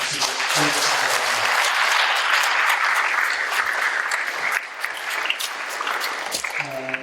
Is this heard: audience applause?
yes